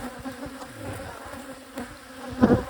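Bees hum and buzz around a beehive in an outdoor apiary during a spring inspection, a loud, close, continuous drone with a few brief bumps and no talking.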